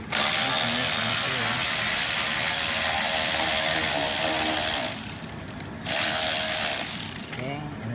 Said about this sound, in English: Do a 7/16 socket or 11 mil. And then I'll just go ahead and loosen this one